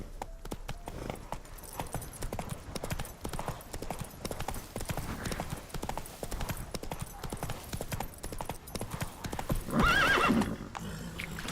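Horse hooves gallop in a steady rapid clip-clop rhythm throughout a Witcher 3 game scene in Velen, with a loud horse whinny near the end.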